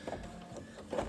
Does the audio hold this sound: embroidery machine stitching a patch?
yes